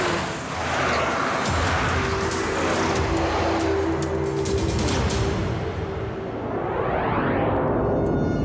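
A van speeds along a road in a chase, a loud, steady vehicle roar filling the scene with a rising whoosh near the end as it races past.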